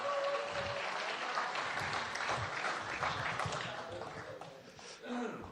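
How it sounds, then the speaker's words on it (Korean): An audience applauds at a Korean Democratic Party national convention during a candidate's speech, with continuous clapping filling the hall and voices mixed in. "박수 한번 보내주십시오."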